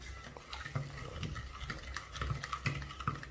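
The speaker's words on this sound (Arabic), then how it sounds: "غادي نحرك المكونات ديالي" A spoon scrapes and swishes through prune and meat ingredients in a pot, making soft, uneven wet stirring strokes at close range, fairly quiet, with no talking.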